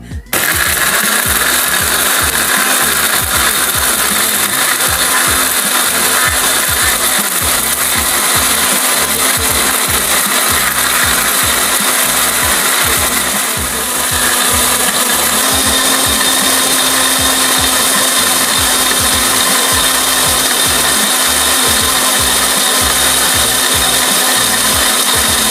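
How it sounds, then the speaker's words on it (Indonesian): A kitchen blender grinds spices for ayam palekko, a loud steady motor whir with a rough pulsing churn running nonstop for about 25 seconds, dipping briefly midway, with no talking. "Sekarang kita haluskan dulu bumbunya."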